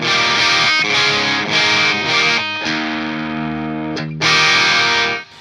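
Electric guitar through a Synergy Syn20IR module with a Morgan AC model, bass turned all the way down for a thin, bright tone, strummed chords ringing loud and steady with brief breaks, no talking.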